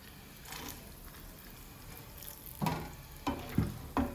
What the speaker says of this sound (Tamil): இப்போ பாருங்கள், இந்த நெய்யில் நம்ம வந்து இந்த கேஷ்யூ நட்டு